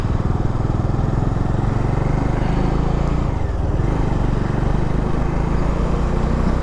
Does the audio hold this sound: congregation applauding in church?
no